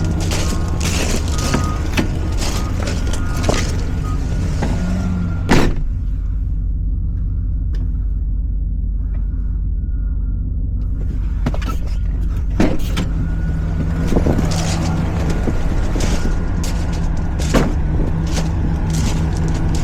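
A truck backing up on a farm, a loud continuous engine rumble with mechanical clunks and creaks throughout, close by and with no talk.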